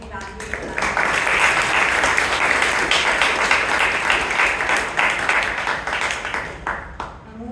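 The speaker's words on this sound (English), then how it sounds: "Let's give a huge round of applause to the evaluation." A room of attendees at a Toastmasters club meeting in Bangalore breaks into steady, lively clapping that holds for several seconds and then tapers off near the end.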